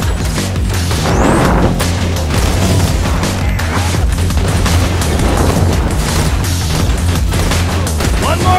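Loud, dense gunfire and explosions from weapons in Borderlands 2 that explode on contact, with rapid bursts, booms and crashes piling up continuously throughout, with little letup.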